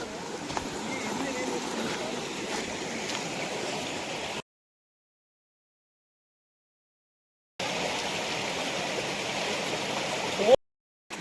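A clear stream rushes steadily near a hidden forest waterfall outside Naravi in Karkala, a close, continuous wash of water broken by two sudden silent gaps.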